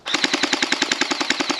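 A Lightning Blaster gel blaster toy gun fires outdoors in a fast full-auto burst of about fifteen sharp, evenly spaced snapping shots, loud and close with no talk over it.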